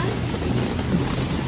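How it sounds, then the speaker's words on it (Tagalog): Heavy rain pours steadily at night around a market street in Thailand, a dense continuous hiss and roar with no breaks, close and loud throughout. "Lakas na ulan."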